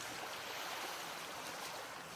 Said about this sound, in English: I watch as water begins to pool in through the broken window, the jagged glass getting carried in with the flow.